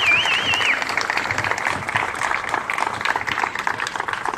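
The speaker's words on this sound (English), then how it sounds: "Let's give Jeremy a round of applause for his work and effort" Outdoor audience applause at a county bicentennial torch relay ceremony, a steady crowd of clapping hands with a brief whistle near the start, fairly close and continuous.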